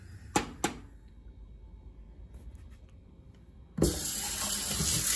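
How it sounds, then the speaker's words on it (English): Tap water runs into a kitchen sink as cooked pasta is rinsed, a couple of sharp clinks first, then a steady loud gush of water filling the rest. "And I'm going to rinse my pasta."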